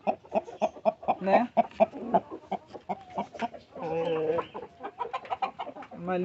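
Orpington chickens cluck close by in a rapid, rhythmic series of short calls, with a longer drawn-out squawk midway, and a person speaks briefly.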